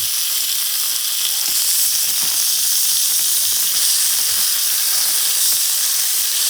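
Meat sears in a hot pan, a steady loud sizzle and hiss of frying fat running throughout, close and alone with no talking.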